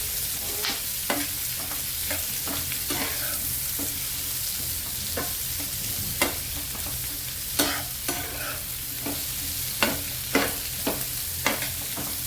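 Capsicum, tomato and onion for paneer chingari stir-fry on a high flame. A steady sizzle runs beneath sharp, irregular spatula strikes and scrapes against the pan, close by, with no talking.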